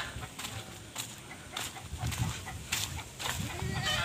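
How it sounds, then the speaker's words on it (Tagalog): Several goats bleat close by, in short calls spread across a steady outdoor background. "Kambing natin."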